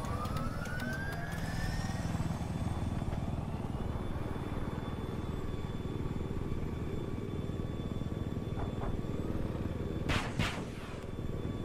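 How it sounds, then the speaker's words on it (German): Helicopter in the video game Battlefield 4, a steady loud rotor drone with rising engine whine at the start and a couple of sharp bursts of gunfire near the end, no talking. "Der Hubschrauber."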